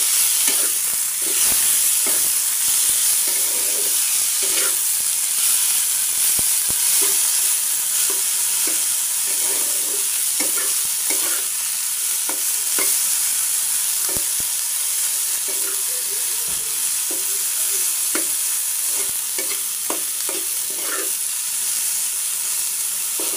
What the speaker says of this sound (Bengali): এখন এখানে ধনিয়া পাতাগুলো ভেজে নেব